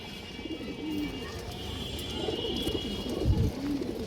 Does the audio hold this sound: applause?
no